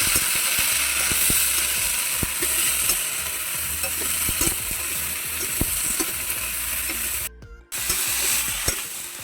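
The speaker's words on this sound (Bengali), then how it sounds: "এই যে দেখুন বিনসগুলো দিয়ে দিচ্ছি বন্ধুরা আর এই বিচিগুলো দিয়ে দিচ্ছি এই যে কড়ার বিচিগুলো দিয়ে দিচ্ছি" Beans and peas tossed into a hot pan on a clay stove, a steady loud sizzle with scraping stirs and clinks, briefly cut by a short gap before frying resumes.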